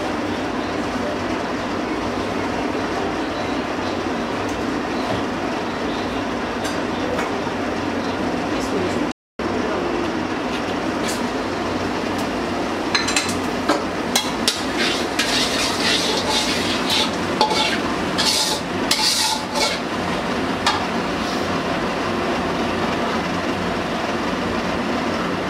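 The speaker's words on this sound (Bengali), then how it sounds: "আমি মাছ ভাজছি, এই কড়াইয়ের ভিতরেই তরকারিটা বসাই দেব।" Fish sizzles steadily in hot oil in a wok, a dense, continuous frying hiss with a few brief clinks of utensils against the pan partway through.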